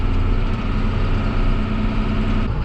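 Tractor-powered wood-splitting machine running loudly outdoors, a steady heavy engine drone with a low rumbling hum throughout and no pauses.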